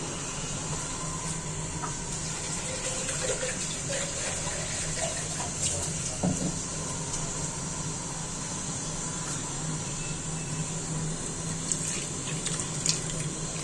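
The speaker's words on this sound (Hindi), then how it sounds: "अब मैं इसमें डाल रही हूँ पानी, और तकरीबन 2 गिलास में इसमें पानी के डालूंगी।" Water running steadily from a tap while filling a jug and pouring into a pressure cooker pot for beef curry, a constant gushing hiss with faint clinks, no voices.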